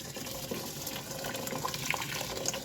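Water pours slowly from a tap over rice being washed, a steady trickling and splashing that stays close and moderately quiet, with no voices.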